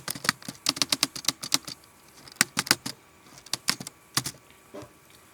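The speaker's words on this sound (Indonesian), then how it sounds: "Di sini kita ketik ipconfig." An ipconfig command is typed on a computer keyboard at a command prompt, giving crisp, close key clicks in quick irregular bursts with short pauses in between.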